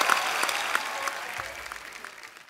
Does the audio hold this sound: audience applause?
yes